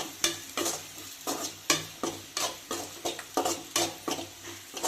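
Egg noodles frying in a pan being stirred with a utensil, a steady rhythm of scraping strokes about twice a second over a constant sizzle, close and clear.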